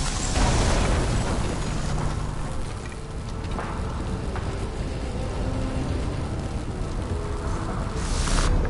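In a video game, a flooded, burning transformer explodes with a loud, sustained roaring blast and crackling rumble that fills the whole stretch, swelling again at the end.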